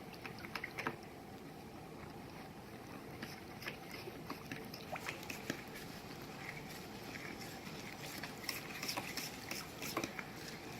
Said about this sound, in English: And I'm gonna stir this up.